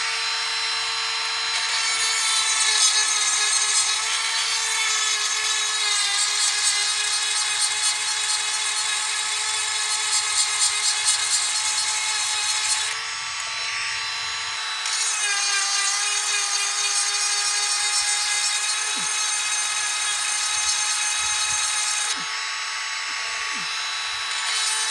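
Hand file rasping across dull saw teeth in a steady back-and-forth rhythm, with bright metallic scraping strokes close by and a brief pause midway.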